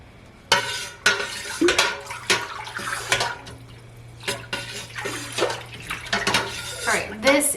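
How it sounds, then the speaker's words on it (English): A spoon stirs sugar into kombucha in a jar, with repeated clinks and scrapes against the glass in an uneven rhythm over a steady low hum, close and moderately loud. "I'm just stirring it one more time to make sure all the sugar is incorporated"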